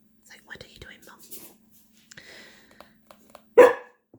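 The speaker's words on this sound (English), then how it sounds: "Now she's going to bark at me, see." A pet dog gives one sharp, loud bark near the end, after a stretch of soft whispering and quiet rustling and handling sounds close to the microphone.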